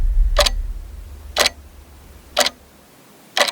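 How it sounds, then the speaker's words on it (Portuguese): Ticks from a wall clock at a grandmother's house, four sharp evenly spaced ticks about a second apart, close and clear in an otherwise quiet room with a faint low hum fading out. "Toda casa de vó tem esse relógio"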